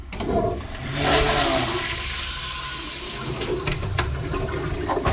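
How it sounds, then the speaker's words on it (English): A toilet flushing nearby, a loud rushing surge that swells and then drains steadily for several seconds, heard alone without talk. "Flush on 3. 1, 2, 3."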